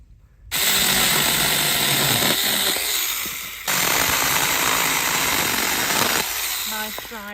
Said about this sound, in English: It's my first time using a chainsaw.